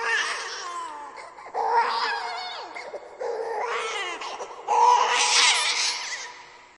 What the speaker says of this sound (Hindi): ये एक बच्चे के रोने की आवाज थी जो कहीं दूर से आ रही थी।